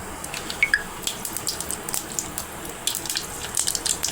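Mustard seeds crackle in hot oil in a pot for a tempering, sharp little pops scattered irregularly over a soft, steady hiss, close by.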